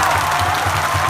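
A large crowd at a political rally in Jharkhand applauds loudly and continuously, a dense wash of clapping over a low rumble of the open-air setting.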